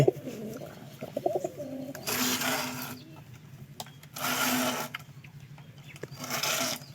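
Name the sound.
pigeons cooing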